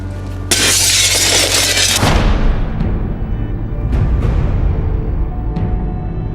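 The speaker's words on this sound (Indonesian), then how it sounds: "biarkan kamu melempar kaca tersebut," Glass mirror shattering in one loud crash that bursts across the range, followed by several seconds of tinkling debris and scattered fragments, with a few sharp clinks as pieces settle.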